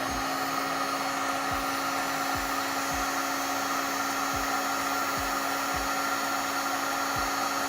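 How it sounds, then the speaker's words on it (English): A heat gun blows steadily to shrink heat shrink tubing during puppet building, a constant broadband whoosh with a low hum and periodic faint clicks underneath, with no talking. "Heat shrink time."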